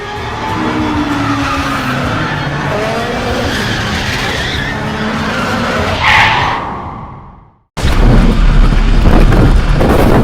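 A Ferrari skidding and crashing: a long, loud tire squeal and engine roar build for several seconds, cut briefly to near silence, then a sudden loud impact bursts in and carries to the end.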